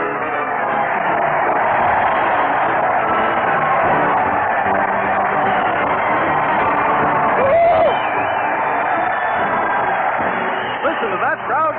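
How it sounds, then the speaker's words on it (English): A large crowd following a parade to the old town hall cheers, whoops and yells continuously, a dense roar of many voices with a few louder shouts rising above it. "Listen to that crowd cheer."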